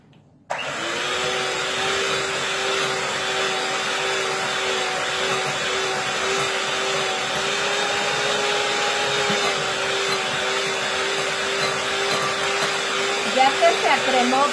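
Electric mixer creaming butter and sugar for a marzipan cake: a steady, loud, continuous motor whir that starts abruptly and holds an even pitch throughout, with faint clinks near the end.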